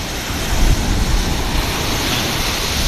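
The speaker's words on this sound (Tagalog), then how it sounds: "naputol na yung breakwater sa lakas ng alon" Loud, steady roar of heavy surf crashing continuously against a breakwater, with broadband rushing noise and some wind buffeting the microphone.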